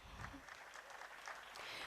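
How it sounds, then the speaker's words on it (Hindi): Audience applause in a theatre after a stage play, very faint and distant, a steady patter of many hands throughout. "तालियां नहीं रुकनी चाहिए"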